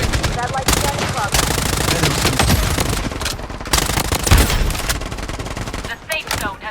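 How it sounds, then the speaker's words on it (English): FN F2000 rifle fire in the Blood Strike shooter, loud rapid automatic bursts packed closely throughout, with brief pauses and game voice lines heard alongside. "I'm under heavy fire."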